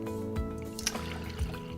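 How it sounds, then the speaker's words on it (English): Hot coffee from a drip coffee maker pours into a cup, a soft liquid trickle with a couple of brief splashy bursts, close and fairly quiet, over a steady low background hum. "I can pour myself a nice hot cup of coffee"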